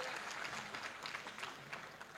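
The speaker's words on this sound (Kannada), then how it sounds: "ಆ ಕಾರ್ಯಕರ್ತರಿಗೆ ಒಂದು ಹೆಮ್ಮೆಯ ತಮ್ಮದು ಚಪ್ಪಾಳೆ ಇರಲಿ" A festival audience applauds in a soft, distant patter of many hands clapping steadily for a couple of seconds.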